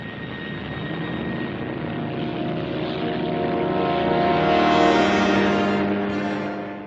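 P-38 fighter planes taking off, a dense propeller-engine roar that holds steady and swells louder toward the end before easing slightly, with no voices over it.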